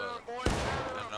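A sharp musket shot cracks close by in the video game War of Rights during a Civil War-style infantry firefight, a single loud report ringing briefly.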